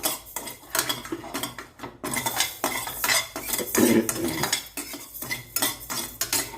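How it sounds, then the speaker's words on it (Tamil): Raw rice, a quarter cup, dry roasting and stirred with a metal spoon in a pan while idli sambar spice mix is being made: repeated scraping and clinking of utensil on pan with a grainy rustle throughout, no talking. "அடுத்து கால் கப்பு பச்சரிசி நல்லா பொரியிற அளவுக்கு வளர்த்துக்கலாம்"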